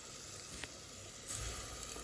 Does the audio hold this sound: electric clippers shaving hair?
no